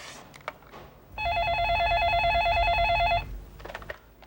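A telephone rings indoors in a home, a steady electronic warble lasting about two seconds, loud and close, with faint room sounds before and after and no talk over it.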